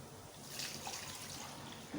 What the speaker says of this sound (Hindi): पानी डालने लगी हूँ, फिलहाल इसमें घी नहीं डालूंगी अभी।